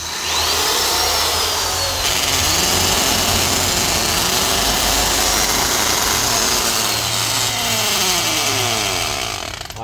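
A Makita electric hammer drill with a 13 mm chuck runs steadily and loudly for the whole stretch, a constant motor whine with a rough, buzzing grind and no voices.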